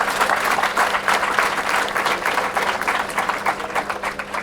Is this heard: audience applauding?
yes